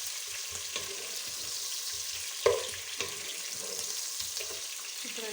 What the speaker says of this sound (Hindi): इसको फ्राई कर लें।